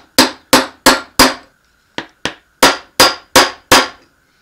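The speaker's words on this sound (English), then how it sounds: "my standard go-to has been a brass punch and a hammer, and we unthread it counterclockwise" A hammer strikes a brass punch to unthread a part of a Sturmey Archer RX RF5 hub, giving about ten sharp, close metallic blows in a steady rhythm with one brief pause between them.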